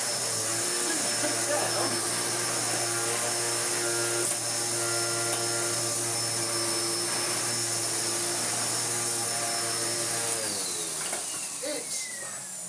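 A loud Kalado KCV01 vacuum cleaner running steadily, a sustained high whine and motor drone that holds for most of the stretch before the pitch shifts and fades slightly near the end.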